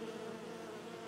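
Steady, close swarm of bees buzzing in the fantasy video game Enderal, a Skyrim mod, a continuous droning hum that holds at an even level with no talk over it.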